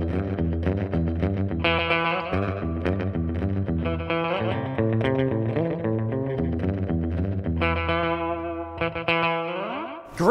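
Electric guitar through a DD3 delay pedal set for short slapback echo, playing a busy picked rockabilly rhythm line with repeated chords, steady and fairly loud throughout, no voices.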